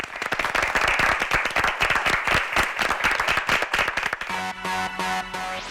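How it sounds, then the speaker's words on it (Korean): A studio audience at a televised high-school debate competition claps for two students, dense applause filling the first four seconds before it gives way to a musical sting with sustained tones. "두 학생에게 박수 한번 부탁드립니다"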